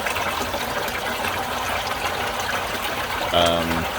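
Water runs steadily through two-inch bulkhead fittings into a garden pond filter's moving bed, a close, continuous wash and trickle with a brief louder hum near the end.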